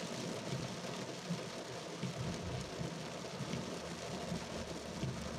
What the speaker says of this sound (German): es hat richtig runtergeschüttet